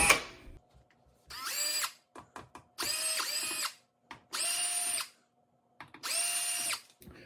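A power drill on screws in a Vizio flat-screen TV, driven in four separate bursts of whirring, each lasting about a second, with short clicks between them. Close and fairly loud, with no talk.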